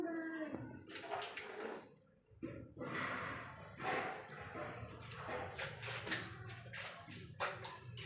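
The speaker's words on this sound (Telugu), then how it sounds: "నీళ్ళన్నీ కింద పోస్తున్నావు?" Water splashing and running onto the ground while a motorbike is washed, a steady wet wash with a brief pause near the middle, close by with voices talking over it.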